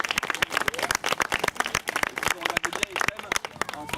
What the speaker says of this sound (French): Donc on peut applaudir bien fort